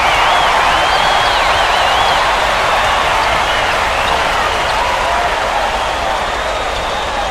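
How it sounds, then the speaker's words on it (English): A basketball arena crowd cheering loudly, a dense, sustained roar with shrill whistles and shouts rising above it, steady and close throughout. "This crowd is going insane. I love the energy of this building. Listen to them."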